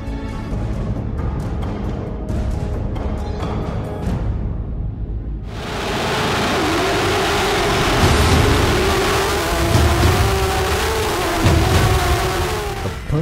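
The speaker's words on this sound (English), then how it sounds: "Perfect start for Jeffrey Schmid allows him to take the lead ahead of championship leader Clemens Schmid" Porsche GT3 Cup race cars launching at the start of a race at Losail International Circuit, a dense roaring wall of engine noise that surges abruptly after a few seconds of quieter rumble and stays loud, with no voices.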